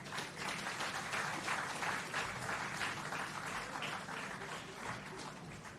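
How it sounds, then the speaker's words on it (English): Applause from an outdoor audience at the Boundbrook Urban Centre groundbreaking ceremony in Jamaica, a steady dense wash of clapping that holds for several seconds with no voices over it. "Another round of applause for the chairman of the NCB Financial Group, the Honorable Michael Lee Chin"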